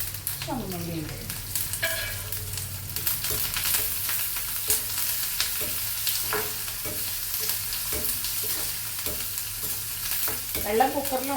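Curry leaves and shallots go into hot oil with popping mustard seeds and dried red chillies, giving a steady close sizzle and crackle throughout, with scraping stirs and a sharper burst near the end.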